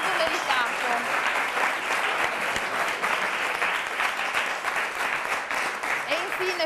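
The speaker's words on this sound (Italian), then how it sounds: "applauso dedicato" An audience applauds steadily and loudly at a youth event in Friuli, a dense wash of clapping that runs without a break, with faint voices mixed in.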